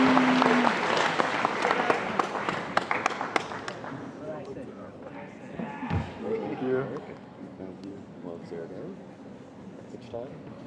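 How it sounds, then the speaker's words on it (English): Applause at a school athletics awards ceremony for an outstanding player, strong clapping in the first few seconds that thins out as voices and crowd chatter take over, with a low thud partway through. "a big round of applause for none other than Big Mac"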